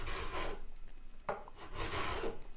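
A file rasps across the fret ends of an FG440-12 guitar in a few close, deliberate back-and-forth swipes, each a dry scraping stroke separated by brief pauses.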